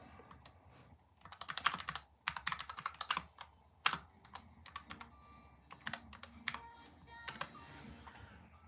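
Fingers type quickly on a computer keyboard in irregular bursts of clicks during a live stream giveaway, close and fairly quiet, with no talking.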